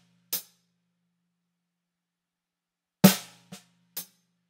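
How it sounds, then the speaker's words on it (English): A slow drum groove played alone: a sharp, loud snare backbeat hit followed by softer ghost-note taps on the snare, spaced apart with ringing decay between strokes. "Now, let's only focus on that backbeat and the ghost note after."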